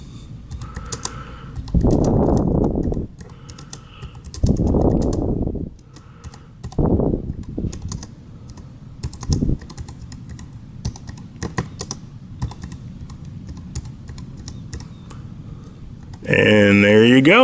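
Keystrokes tapping on a JLab Go wireless keyboard, quick irregular bursts of soft clicks at close range, broken up by spoken talk in the room and a short loud tonal sound near the end.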